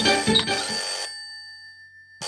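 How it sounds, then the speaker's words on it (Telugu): A telephone rings loudly and close in a hotel's deluxe room. A bright burst of ringing is followed by a single lingering tone that fades away, with no one speaking. "ఏంట్రా ఫోన్ రింగ్ అవుతూనే ఉంది?"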